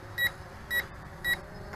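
Bayangtoys X21 brushless RC quadcopter in headless mode gives four evenly spaced short electronic beeps about half a second apart, over faint motor hum.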